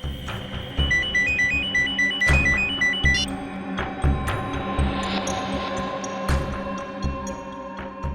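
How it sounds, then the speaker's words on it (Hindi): A mobile phone ringtone chirps a repeating electronic melody over background music and dramatic sound effects in a TV crime drama scene. "उसी का फोन है।"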